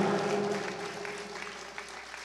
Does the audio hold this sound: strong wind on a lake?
no